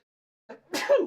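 A single sneeze during a live painting stream, a small intake sound followed by a sharp, close burst, with no talk over it.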